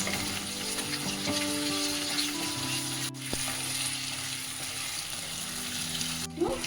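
Onion and diced potatoes fry in oil with a continuous close sizzle, soft crackling and occasional stirring scrapes, sounding alone with a faint steady tone in the background.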